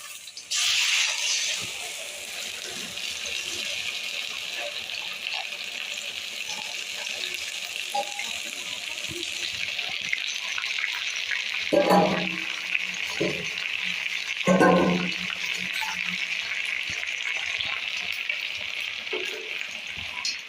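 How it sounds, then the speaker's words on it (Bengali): Steady frying sizzle of onions in a pan after chicken spice mix is added, with a few brief scraping stirs partway through and no talking. "পেঁয়াজগুলি ভাজা ভাজা হয়ে গেছে এবার আমি চিকেনের মশলাটা দিয়ে দিলাম"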